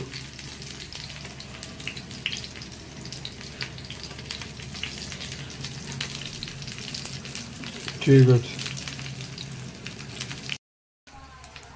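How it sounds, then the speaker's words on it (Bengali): Potato tikki fry in hot oil with a steady, close sizzle and crackle throughout, interrupted by a brief louder stir or clatter and a short spoken remark near the end. "যতগুলো ধরে দিই এগুলো ভেজে নিই"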